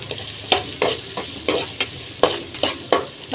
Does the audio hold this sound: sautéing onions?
yes